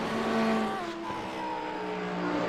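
An Audi race car at Lime Rock Park in a sim racing league, its engine loud and close and holding high revs that sweep down through gear changes and climb again, with no talk.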